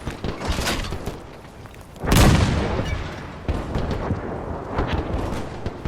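A Mark 5 tank fires in a battle in the Warband mod The Parabellum, one loud boom standing out from ongoing distant gunfire and rumbling combat noise.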